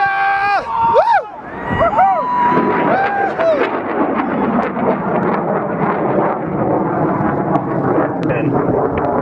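A rocket engine ignites and roars at launch, a loud, continuous broadband rumble that builds and holds, while a crowd cheers and whoops over it at the start.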